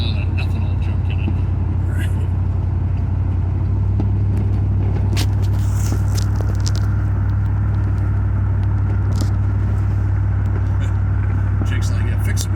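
Steady low rumble of a 1974 Plymouth Gran Fury's 440 cubic inch police-spec V8 running from inside the car, with faint quiet voices and road noise over the continuous engine drone.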